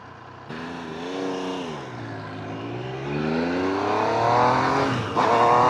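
A CFMOTO 800NK motorcycle engine pulls steadily while riding, its pitch rising and falling through gear changes, close and fairly loud with no talking.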